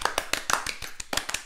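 A small group claps briefly for a guest who played a tweaker in Breaking Bad, the claps sharp and uneven, about a dozen scattered hits close to the microphone with no one talking.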